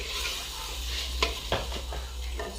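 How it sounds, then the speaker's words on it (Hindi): Meat frying with ginger and garlic for a village-style shalgam chicken, a steady sizzle close by, broken by a few sharp spoon scrapes and clinks against the pot. "तो हम गोश्त को अच्छी तरह भून लेंगे।"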